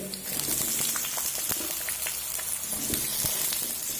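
Papaya pieces fry in hot refined oil in a pan, a continuous crackling sizzle with occasional sharper pops and stirring clicks, close and steady throughout.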